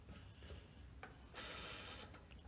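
New old stock Suntour Winter freewheel threaded by hand onto a greased hub of a vintage 1980s Italian aluminum Guerciotti bicycle: a few faint clicks and taps, then a brief louder ratcheting, whirring spin of the freewheel, close and quiet.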